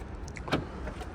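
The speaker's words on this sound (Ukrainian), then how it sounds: "електропривод кришки багажнику" The electric power tailgate of a 2020 Ford Explorer runs in a brief, close motor whir with a soft mechanical knock midway. No voices are heard.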